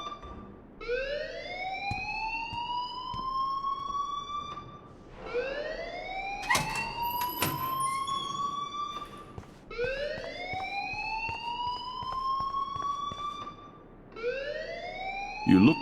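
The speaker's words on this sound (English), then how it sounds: "please turn off that alarm since that's your job" An alarm rings in the Life is Strange video game, with a loud rising electronic wail that sweeps upward and repeats in cycles of about four seconds and continues throughout.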